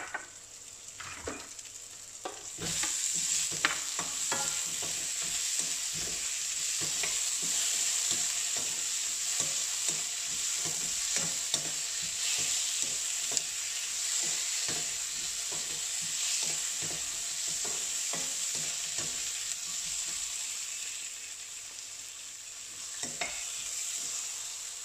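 Tomato sizzles steadily in a hot pan for a Sri Lankan prawn curry, broken by repeated scraping stirs of a spoon against the pan throughout, with no talking.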